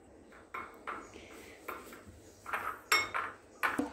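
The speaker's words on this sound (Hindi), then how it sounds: "इस सारे मसाले को अच्छे से आप मिक्स कर लें।" A spoon clinks and scrapes against a bowl while mixing a dry spice filling for stuffed eggplant masala, a run of light metallic taps and rattles that grow busier toward the end, close and fairly soft.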